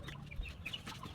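Chickens clucking nearby in a short burst, with a few soft calls over a low rumble of background noise.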